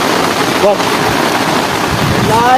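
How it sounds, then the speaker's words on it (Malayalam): Heavy rain hisses in a steady, unbroken wash of sound throughout. "അപ്പൊ നല്ല മഴ പെയ്തുകൊണ്ടിരിക്കുകയാണ്"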